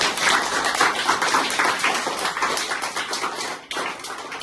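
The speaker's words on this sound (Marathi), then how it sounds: "सगळ्यांनी टाळ्या वाजून मॅडमचं धन्यवाद करावा" Schoolchildren clap together in a dense, steady patter of many hands to thank their teacher, close and fairly loud throughout, easing slightly near the end with a brief gap.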